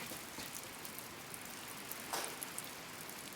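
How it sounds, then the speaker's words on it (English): Heavy rain pours down outside a camper at a farmhouse building site, a constant faint hiss of drops with occasional louder splashes and patters. "It's raining so hard right now."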